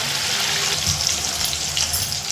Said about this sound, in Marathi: हे बघा मस्त आज तळून घ्यायचं.